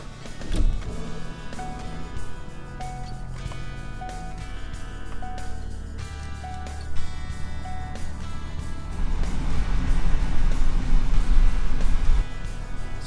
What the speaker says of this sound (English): So I'm going to go ahead and start it up, start driving, and hopefully get this thing done.